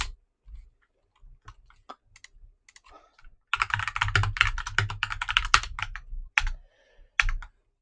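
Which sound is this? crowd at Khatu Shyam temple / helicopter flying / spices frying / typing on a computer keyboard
typing on a computer keyboard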